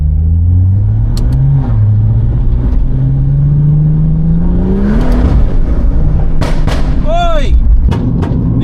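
A tuned BMW M240i with a custom Stage 2 engine and gearbox tune revs loudly up close, its engine note climbing and falling, with several sharp exhaust bangs and pops crackling near the end.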